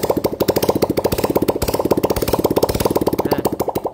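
A Honda Verza motorcycle engine, running after a piston replacement, is revved with a steady, rapid, loud single-cylinder thump right up close, the pulses quickening and thickening as the throttle opens.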